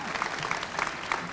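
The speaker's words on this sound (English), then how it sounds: "can we just give her a little round of applause?" Applause from an audience at a high school senior awards night, a short steady patter of clapping hands filling the room at moderate level with no voices over it.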